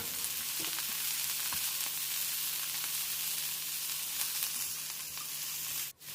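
Chopped cabbage and garlic stir-frying in hot oil in a wok give off a steady, loud sizzle with a constant hum underneath. A sharp scrape comes near the end, and nobody speaks.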